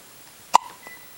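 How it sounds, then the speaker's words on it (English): A single short hiccup from a baby, one sharp burst followed by a faint trailing tone, fairly close and alone with no talking. "Hiccups."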